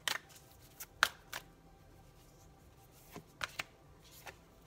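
Tarot cards are handled and shuffled close by and softly, with a scattering of brief crisp flicks and riffles spread across a quiet room.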